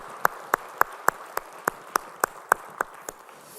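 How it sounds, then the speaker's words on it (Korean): Slow, evenly spaced claps from a church congregation during a Sunday worship service, about a dozen sharp hits in steady rhythm, fairly quiet and thin. "우리 주님께 영광의 박수 올리겠습니다"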